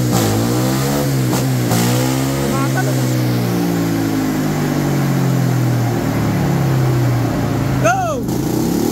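A Honda RS150 motorcycle with a remapped stock ECU revs hard, its pitch sweeping up and down repeatedly, loud and close, with talking heard in the mix.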